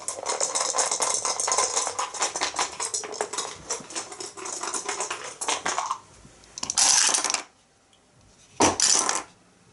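Three dice rattle and tumble across a tabletop during an Arkham Horror board game, a sustained clattering roll followed by two short bursts of dice knocking, no talking.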